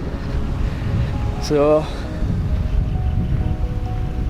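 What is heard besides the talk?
sea waves at a beach in Ranna, Sri Lanka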